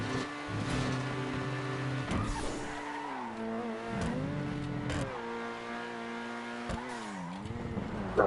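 A race car in GTA V Online stunt racing revs hard and shifts through gears, its engine pitch climbing and dipping as it brakes late into corners and accelerates out, with brief tire squeal, loud and close.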